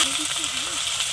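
Onion and okra sizzling in hot oil in a home kitchen pan, a steady close broadband fry hiss with a faint low voice hum underneath.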